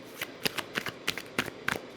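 Tarot cards being shuffled and drawn, a run of quick crisp riffling snaps in a close, quiet room, about seven distinct bursts in two seconds with no talk.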